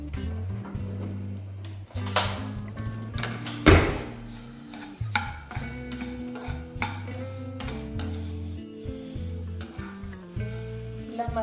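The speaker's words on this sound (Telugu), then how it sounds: "ఇవన్నీ వేసుకొని లో ఫ్లేమ్లో ఫ్రై చేసుకోవాలి." Spices such as poppy seeds and cardamom fry on a low flame in a pan, with a soft sizzle under repeated metallic clinks and scrapes of a stirring utensil, close and fairly quiet.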